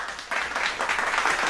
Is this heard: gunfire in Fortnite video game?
no